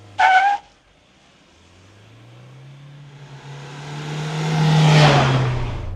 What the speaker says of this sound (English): oh my god, look at the wheel spin, or rather hear the wheel spins